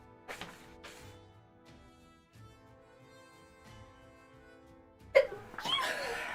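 A sharp burst of a sneeze at about five seconds, loud and sudden with a breathy tail, following quieter soft sounds earlier.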